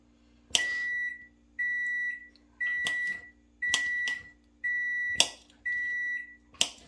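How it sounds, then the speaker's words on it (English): An oven gives a series of electronic beeps while being set to preheat to 350 degrees: a run of short, bright tones and some longer ones, repeated at a steady pace, fairly close and clear, with no talking. "Oven's preheating to 350 degrees."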